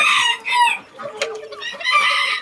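Grey bantam Tomtam chickens in Khon Kaen cluck and crow, with bright, repeated calls close by and a short crowing note in the middle, and almost no other sound.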